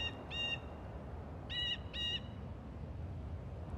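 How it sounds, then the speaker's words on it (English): A few short bird chirps in three brief bursts, fairly clear over a steady low outdoor rumble, with quiet pauses between. "Feel like you can hear birds."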